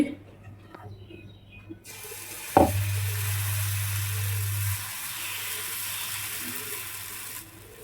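Paneer chilla batter made from mixed lentils hits a hot, oil-greased griddle with a sudden loud sizzle that settles into a steady hiss of frying, with a low hum underneath.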